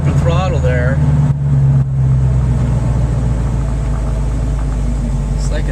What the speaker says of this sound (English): It's like it starts backfiring.